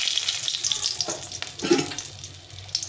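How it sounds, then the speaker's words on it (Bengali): Dried red chillies and a bay leaf hitting hot oil as tempering for a dal with bottle gourd, a short burst of spitting, crackling sizzle with a few sharp pops. "দুটো শুকলঙ্কা ফাটিয়ে ফোড়ন দিয়ে দিলাম তারপরে দেবো তেজপাতা একটা তেজপাতা ফাটিয়ে দিলাম"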